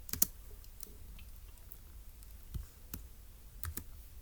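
Sparse, light keyboard typing at close range, a few quiet clicks and taps spread over a soft room hiss, with no voices.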